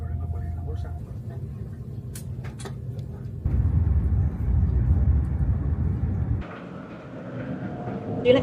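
A low, steady rumble of a train, moderately loud, shifting in intensity partway through, with faint background sounds.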